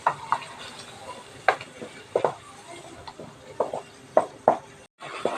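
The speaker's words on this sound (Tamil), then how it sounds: "மசாலா ஊற்றிட்டு நல்லா எண்ணெய் பிரிஞ்சு வர வரைக்கும் நல்லா வதக்கி விட்டுறணும்." Masala sautéing in oil for a Sankara fish curry, a soft sizzle under repeated scraping and tapping of a spoon against the pan at an irregular, stirring rhythm.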